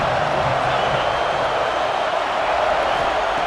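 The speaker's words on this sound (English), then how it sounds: "This crowd ready to make its presence known." Stadium crowd noise in College Football 26, a Georgia versus Ohio State game: a dense, steady roar of distant fans with no distinct cheers or claps standing out, continuous for the whole short stretch.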